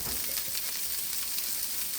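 Meatballs browning in a pan, a dense continuous sizzle with soft crackling, steady and close, nothing else heard.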